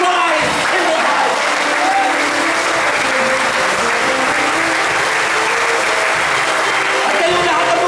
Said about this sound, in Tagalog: At kayo lahat na pumapalakpak